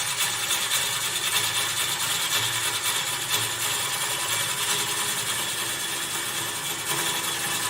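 A woodturning tool cuts shavings from a wooden goblet spinning on a lathe, making a continuous, even, hissing scrape that holds steady throughout at a moderate distance.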